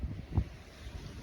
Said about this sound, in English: Gusts are very high at the moment.